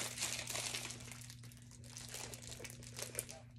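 Plastic wrapper crinkles and tears in quick, close crackling bursts over a low steady hum.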